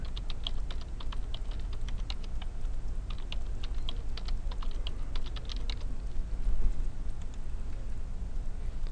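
Username and password being typed on a computer keyboard while setting up an RFID controller, a quick close run of key clicks over a steady low hum, then quieter background after about six seconds.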